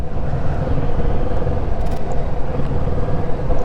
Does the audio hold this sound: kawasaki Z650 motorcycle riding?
yes